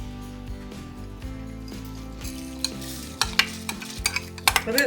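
Rice being added to a pot with onion and carrot for Georgian kharcho soup, then stirred with a spoon, giving scraping clinks and soft sizzling that grow sharper and more frequent toward the end.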